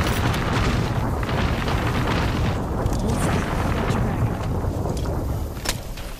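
Bangalore's missile strike in Apex Legends: a sustained barrage of deep, rumbling explosions, dense and loud throughout, with booms overlapping into a continuous roar.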